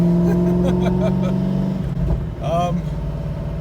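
A C5 Corvette's engine drones steadily while taking a corner, its pitch shifting as active handling steps in, with a person's voice exclaiming over it.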